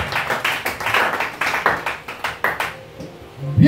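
Congregation at a church service clapping in a quick, steady rhythm of sharp hand claps, fairly close and lively, with the clapping thinning out toward the end.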